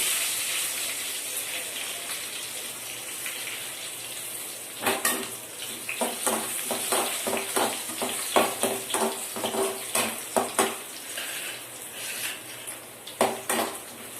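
Garlic fries in a pan for a South Indian drumstick sambar: a soft hiss at first, then a run of close metallic clinks and scrapes from a spoon stirring against the pan.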